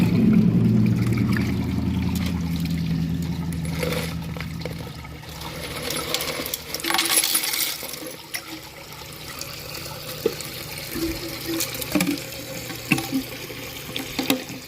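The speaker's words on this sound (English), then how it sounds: "So now I'm going to screw it up by putting a bunch of screws down through the flush valve." Screws dropped down the flush valve of a Glacier Bay toilet: water rushes loudly at first and settles, then scattered metallic clicks and small clinks sound through the remaining trickle.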